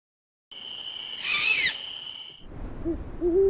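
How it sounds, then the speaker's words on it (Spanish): A deep owl call rings out in the night, a bright sustained hoot with a wavering upper tone, fairly loud and alone, followed by quieter low rumbling background and a few softer whistle-like calls. "Un sonido muy profundo resonó en la noche, el llamado de un búho"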